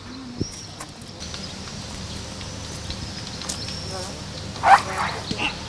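A service dog gives one sharp, loud bark near the end of a protection demonstration for its handler, after a stretch of quiet background with faint scattered sounds.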